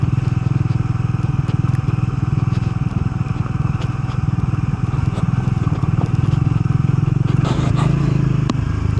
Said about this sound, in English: Going through the middle of the desert like this, basically on a street bike.